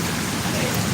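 Rain pours outdoors over a street in South Bengal, a dense, even hiss that runs without pause and stays loud and close throughout.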